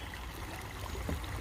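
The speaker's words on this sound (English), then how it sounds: "What is better than this beautiful sound of running water" Running water of a stream, a steady, close, rushing and gurgling wash with no talk over the short stretch.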